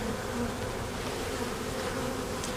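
Honey bees from a fallen colony in a swarm trap buzzing continuously, a dense close hum of many insects with no talk.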